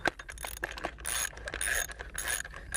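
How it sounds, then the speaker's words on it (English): Bolts being tightened on the nose cone of an SQFlex Combi pump, giving quick metallic clicking and ratcheting bursts, close and fairly faint. "Remount the 3 bolts and tighten them properly."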